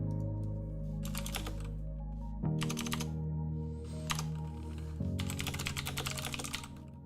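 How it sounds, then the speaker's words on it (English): Close, loud clattering of keystrokes on a gaming keyboard in three quick bursts, layered over a steady low hum. "I'm hardcore into games, so I always like hearing my keys. It's not good for podcasting, so excuse the loud typing here."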